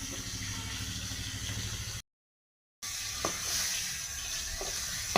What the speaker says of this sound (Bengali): এখানে মাছের মাথাগুলো ভেজে নিচ্ছি আগে